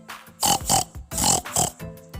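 Several rhythmic oinks in quick succession, loud and close, sounding like a voice imitating a piglet's squeals and grunts during a children's story reading.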